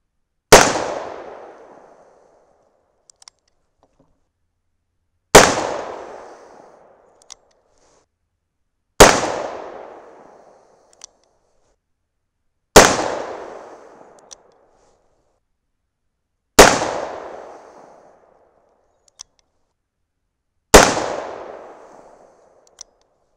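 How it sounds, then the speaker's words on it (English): Six .357 Magnum test loads fired from a Ruger GP100 revolver, each a sharp loud blast with a ringing decay, spaced about four seconds apart, with faint clicks between shots and no talking. "I got a full cylinder here, six shots. So let's shoot them"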